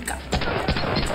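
Bursts of gunfire crack out in quick succession in Medal of Honor Allied Assault, loud and close, with a voice shouting over the shots.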